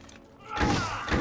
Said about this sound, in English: Let's try our mortar volley once again.